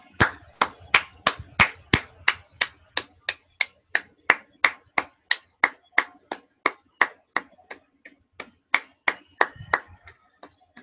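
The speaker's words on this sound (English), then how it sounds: "Oh, people, let's clap." Sharp, evenly spaced hand claps at a wrestling show, about two or three per second, in a crisp, steady rhythm for roughly eleven seconds with quiet gaps between beats.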